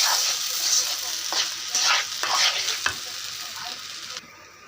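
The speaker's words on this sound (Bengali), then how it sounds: "তাই আমি ভালো করে এটি ভেজে নেব" Rice frying in a pan for pulao, a bright continuous sizzle with rhythmic scraping strokes of stirring, close and fairly loud.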